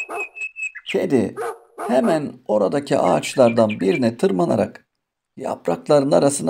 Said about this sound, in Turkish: Tilki sözünü yeni bitirdiği sırada uzaktan köpek sesleri gelmeye başlamış.